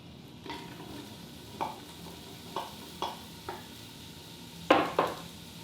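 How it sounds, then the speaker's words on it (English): Onions stirred and sautéing in olive oil inside an Instant Pot, a soft steady sizzle broken by a handful of sharper utensil scrapes against the pot, the loudest pair near the end, with no talking. "we're gonna add that additional tablespoon of our olive oil. And we're gonna add our onions."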